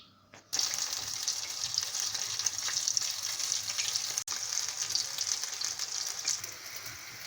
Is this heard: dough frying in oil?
yes